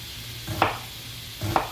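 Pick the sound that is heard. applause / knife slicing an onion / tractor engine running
knife slicing an onion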